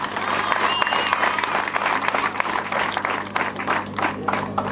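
An audience applauds at the closing ceremony of a volunteer month, with sustained, lively clapping from a crowd and a faint voice heard beneath it.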